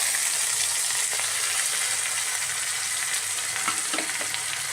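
Ivy gourd (dondakaya) sizzles steadily in a hot pan for a curry, a continuous dense hiss close by with a few faint stirring clicks and no talking.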